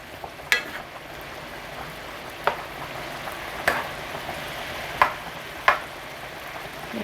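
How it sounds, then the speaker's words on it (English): Shrimp scampi simmering in wine broth in a pan gives a steady, close bubbling hiss, broken every second or so by a light clink of a utensil against the pan; no one speaks. "have it simmer until about a quarter to a half of the broth or wine has"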